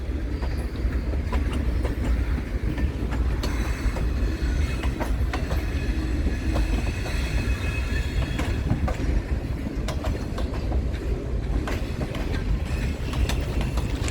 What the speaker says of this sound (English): So the reason why they click like that, I found out, is because it's light rail.